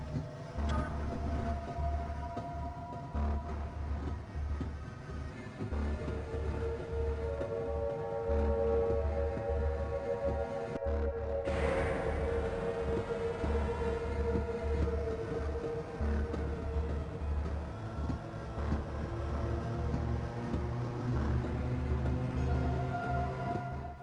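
A Half-Life 1 music track plays as a dark droning piece with a pulsing low bass figure and sustained tonal layers, heard alone with a brief dropout about halfway through.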